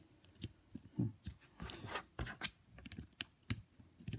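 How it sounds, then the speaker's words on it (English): A nut is spun by hand onto a bolt on a drone frame, making quiet close scratchy rubbing and small clicking taps in an irregular series, with no speech. "Spin your nut on there."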